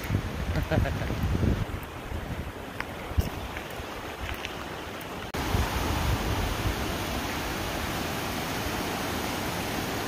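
Wind gusts across the microphone on a hiking trail near Gatlinburg in the Sugarlands, a constant broadband rush that drops briefly then surges back louder and steady.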